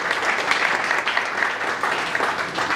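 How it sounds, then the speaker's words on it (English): Steady, dense applause fills the room from the audience at a campaign launch event, with no break in the clapping. "Round of applause to each one of you in the room."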